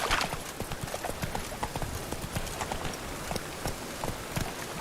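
Roach the horse's hooves clip-clop steadily on the ground in The Witcher 3, a continuous rhythmic trotting close by under ambient game sound, with no talk.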